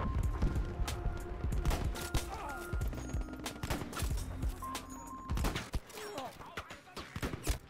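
Video game gunfire, a series of sharp shots cracking at irregular intervals over a busy background of clattering ambient noise, fairly close and moderately loud.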